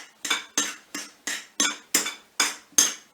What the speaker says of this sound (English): with my knife I'm going to mix that into the pastry